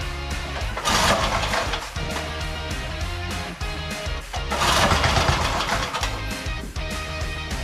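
A vintage Rupp racing go-kart engine fires up and settles into a steady, loud idle, its revs swelling and easing in two surges, close by with no talk over it.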